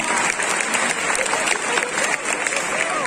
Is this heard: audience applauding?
yes